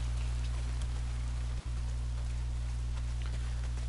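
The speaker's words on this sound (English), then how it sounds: "Well, not if it's pissing down rain." Heavy rain pours steadily in the open-world game Days Gone, a dense, even hiss over a low hum, continuous and close with one brief dropout.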